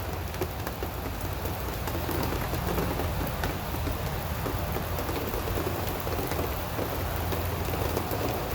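A steady summer rain shower falls outdoors near a pepper garden, a dense continuous hiss of drops on surfaces, even and fairly loud with no talking.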